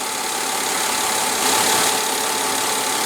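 A 2016 Mercedes-Benz GLE 350 with a 3.5 L V6 idles steadily and loudly, a constant even hum with no voices.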